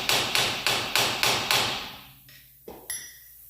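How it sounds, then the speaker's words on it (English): A small hammer driving a screwdriver to tap free a silicone-caked front axle seal on a Jeep Wrangler: five evenly spaced sharp metallic strikes, close and loud, then a pause and two lighter taps. "little hammer and a screwdriver and kind of go in behind this thing and just kind of tack it free"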